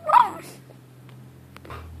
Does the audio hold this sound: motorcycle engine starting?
no